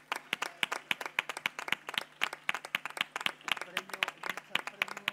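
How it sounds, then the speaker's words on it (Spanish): Applause at a charity gala in Marbella, many distinct hand claps in a lively, uneven rhythm from a modest audience, fairly quiet and continuous with faint background voices. "Un aplauso para Terelu, por favor."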